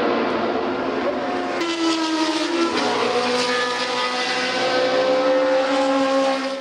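Formula 1 race cars on the grid at the Zandvoort circuit, their engines including a Ferrari droning loudly and steadily with layered rising tones from several cars, no talk over them.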